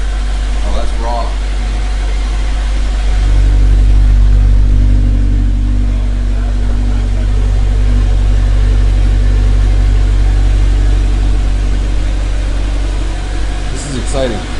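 A Honda S2000 engine idles steadily just after starting, a loud, close, constant low rumble that holds throughout while people talk over it.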